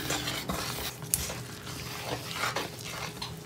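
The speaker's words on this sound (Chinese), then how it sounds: "然后把它搅拌成大面絮状" Chopsticks stir flour and cooled pineapple juice into a shaggy dough for pineapple steamed buns, giving a close, steady scraping and mixing sound with a few sharper clicks against the bowl and no talking.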